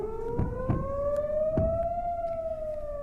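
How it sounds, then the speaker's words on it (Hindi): Air raid siren wailing after a rocket attack in Israel: one steady, slowly rising tone with a faint harmonic above it, heard from a distance over background rumble and a few soft thuds. "रॉकेट हमले होने के बाद ही सायरन की आवाज से पूरा इलाका भी गूंजने लगता है"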